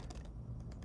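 Keys clicking on a computer keyboard as a web address is entered: several soft, quick taps in a loose cluster, faint and close, with no talking.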